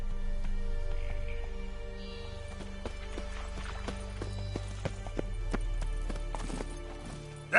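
Roach, a horse in the video game The Witcher, trots with crisp, rhythmic clip-clop hoofbeats over a low ambient game soundscape, steady throughout and ending with a sudden louder burst.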